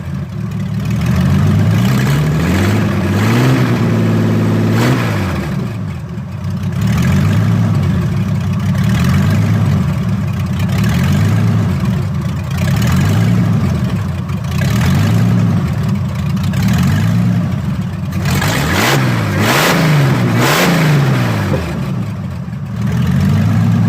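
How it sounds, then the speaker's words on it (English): A junkyard supercharged V6 Thunderbird engine runs loud and close, idling with a rough, lumpy rhythm, then revving and pulling off in first gear with repeated rises and dips in engine pitch. "I put it in first gear and I hop in, and then we just drive over the block like a jerk."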